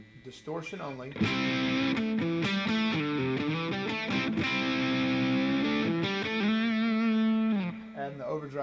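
Electric guitar through a distortion pedal alone, heavy saturated chords and single notes sustained for roughly seven seconds, close and loud, with a short spoken moment at the start.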